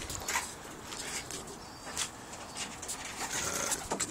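Pigeons coo softly inside a breeding loft, with a few low, murmuring calls rising over quiet rustling and faint patter in the background.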